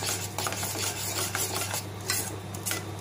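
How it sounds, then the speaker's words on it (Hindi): Sugar being stirred into a kalakand mixture in a pan, a steady, close scraping and rasping of the spoon against the pan, continuous and fairly even, with no talking. "चीनी जब इसमें पक जाएगी तब तक हम इसको चलाते हैं।"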